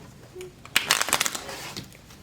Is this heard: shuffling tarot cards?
yes